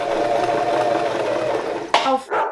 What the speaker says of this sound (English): Me versus sewing machine.